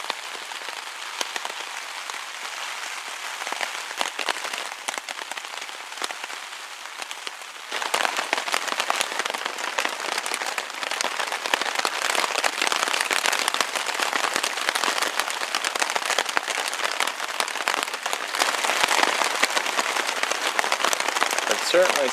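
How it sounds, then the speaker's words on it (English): Heavy rain pours steadily onto a camping tarp over a hammock during an extreme overnight storm, a dense, close hiss that grows noticeably louder and harder about a third of the way through and stays intense to the end. "It's pouring out there pretty good."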